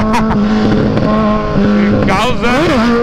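Kawasaki Z1000 motorcycle engine revving hard during a wheelie, a loud, close, sustained snarl that holds steady, dips briefly, then climbs and falls through several sharp rises in pitch.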